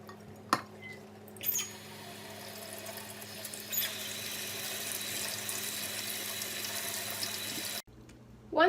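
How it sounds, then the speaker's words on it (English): Canned black beans are rinsed under a running kitchen tap: a steady hiss of water for several seconds, preceded by a metallic clink, then the flow cuts off abruptly. "The first step in our recipe is to drain and rinse a can of black beans."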